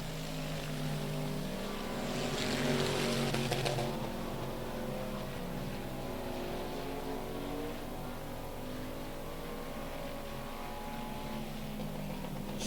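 Race cars in a heat race at Rocket Raceway Park, engines droning steadily at a distance with rising and falling pitch as the field passes, one louder swell early on.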